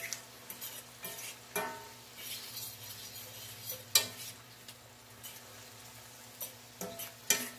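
Mushroom fajita mixture stirred in a pan: a quiet background sizzle broken by scattered clinks and scrapes of a utensil, with a couple of sharper knocks.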